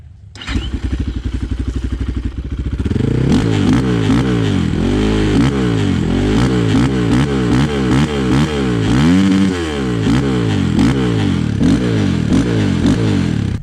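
KOVI MAX 300 motorcycle engine idling, then revved hard through a series of rising and falling throttle blips, loud and close, with a mechanical clatter underneath and no talking.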